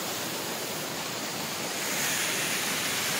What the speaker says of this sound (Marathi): कसं पाणी पडते, आवाज बघा पाणी